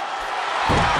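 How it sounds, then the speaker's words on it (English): A video game arena crowd in WWE 2K22, at a Hell in a Cell match, roars in a dense, loud wash of cheering that swells near the end of the brief moment. "The sound of this crowd is deafening, and he's asking for more."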